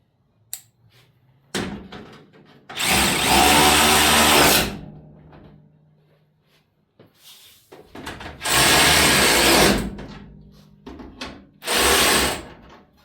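A power tool tightening down a new radiator on a Dodge D250 pickup, whirring in three loud bursts of a few seconds each, separated by quiet pauses with small clicks and handling noises.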